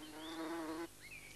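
A queen bee buzzes close by in a UK countryside setting while searching low for a nest site such as a mouse hole, one steady drone that shifts in pitch partway through.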